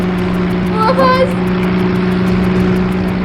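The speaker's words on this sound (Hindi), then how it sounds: "ये कोई मोटर बोट की आवाज हुई" A motorboat engine drones steadily and loudly with a constant low hum, while a voice briefly rises over it midway.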